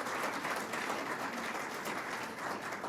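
Audience applause for community center staff and a county commissioner at a Houston precinct community center event, steady dense clapping that holds at an even level for a few seconds with no voices over it.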